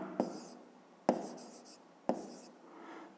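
Chalk or marker writes on a board in a fifth-grade maths lesson, three short separate strokes about a second apart, each a quick tap followed by a brief scratchy scrape, faint and close in a quiet room.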